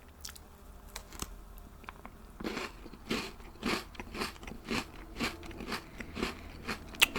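Crunchy chocolate-covered cookies with peanut butter between them being bitten and chewed close up: quiet, crisp crunches that start sparse, then settle into a steady chewing rhythm with no speech.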